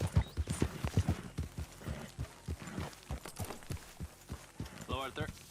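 Horse hooves clip-clop in Red Dead Redemption 2, a quick, steady run of close hoof strikes with light background game sounds and a brief whinny-like cry near the end.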